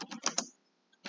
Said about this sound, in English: I'm just going to type in Shayla's